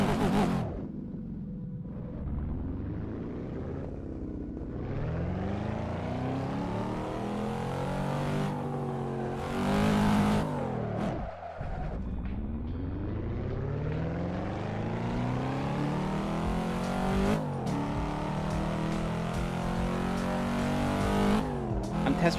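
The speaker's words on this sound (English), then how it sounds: "So today we're driving a little bit the Cadillac CT5V." A Cadillac CT5V sports sedan in Euro Truck Simulator 2 revs hard, its engine note sweeping up through repeated gear shifts with brief drops between, loud and continuous.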